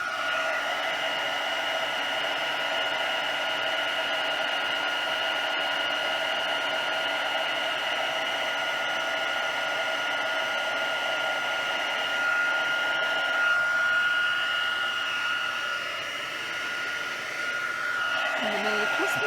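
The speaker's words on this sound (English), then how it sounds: "Just trying to heat this up a bit." Close, steady whirring roar of a heat tool blowing hot air over a stamped Christmas card, constant and fairly loud, wavering slightly near the end as it moves.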